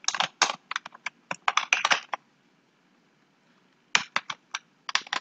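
Quick bursts of typing on a computer keyboard while working in Sublime Text, close-up clicky keystrokes in two runs separated by a short pause, with no voice.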